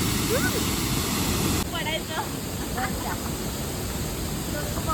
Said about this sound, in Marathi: इकडून पाणी असं इथपर्यंत चाललंय. आणि आम्ही ह्या ब्रिजवरती उभा आहोत.